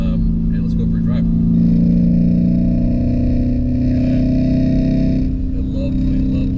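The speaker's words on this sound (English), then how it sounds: "A lovely, lovely, deep exhaust note." A Lamborghini Urus SUV drives with a deep, steady engine and exhaust drone heard from inside the cabin, loud and sustained with a slight pitch shift near the end.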